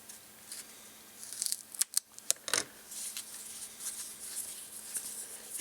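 Scissors snipping close by during work on an electronics kit, with a few crisp, sharp cuts in quick succession followed by softer rustling and handling.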